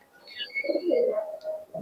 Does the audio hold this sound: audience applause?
no